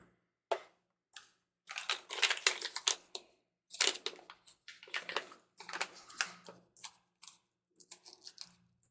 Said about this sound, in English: Open plastic bag.